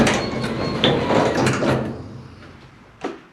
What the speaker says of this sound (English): I press and hold the up button until the door's to the position I want.